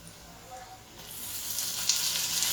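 Chicken pieces drop into golden-fried onions in a hot pan, with a faint sizzle at first that swells into a loud, steady hiss over the last moments.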